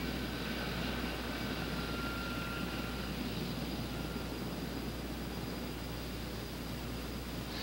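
A Sikorsky CH-54 heavy-lift helicopter taxis into position over a heavy load, a large cement-filled tank, with a steady, loud, broadband engine and rotor roar that holds evenly throughout.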